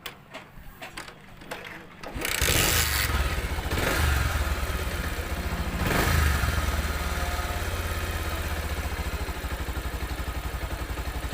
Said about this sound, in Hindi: अब बाइक को मैं फिर से स्टार्ट करता हूँ।